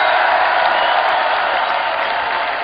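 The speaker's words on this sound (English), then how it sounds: "Will you guys join me in giving a big round of applause to the man that put this whole thing together?" Crowd applause at a live concert in San Rafael, Marin, filling the space as a dense, steady roar of clapping and cheering for the whole stretch.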